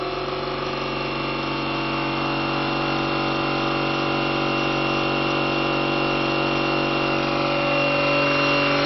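A reactive generator on a test bench spins up at low power, giving a steady, even mechanical whine and hum that holds at one level throughout, with no voices.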